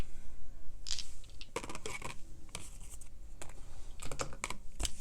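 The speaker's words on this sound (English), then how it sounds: "Let's put these cards away." Tarot cards being gathered and put away make a quiet, close run of irregular shuffling, tapping and scraping clicks in uneven bursts.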